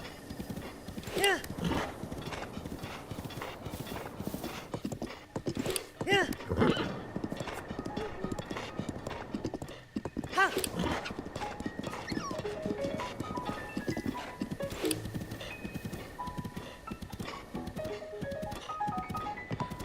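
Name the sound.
horse hooves clip-clopping while riding, Breath of the Wild video game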